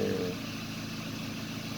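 A Fiat Linea with the E.torQ 1.8 16V engine, fuelled on ethanol, runs at a steady idle, giving a close, even mechanical hum with no voices.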